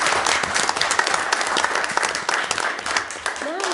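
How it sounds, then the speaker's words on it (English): Audience at a public meeting applauding steadily, a dense wash of clapping with faint voices and a brief whistle-like tone near the end. "Let's give them a round of applause."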